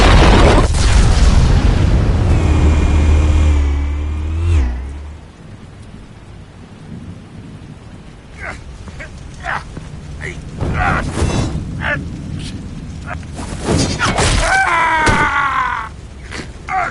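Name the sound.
explosives detonating in a video game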